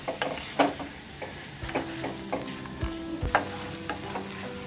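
Snake gourd poriyal with dal, coconut and salt being stirred in a pan gives quiet scraping strokes and soft knocks of the spoon, repeated irregularly over a faint low sizzle.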